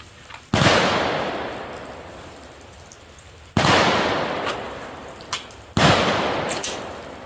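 Three sharp SIG P320 pistol shots during a defensive shooting drill, spaced a few seconds apart, each a loud crack with a short decaying echo, no talk.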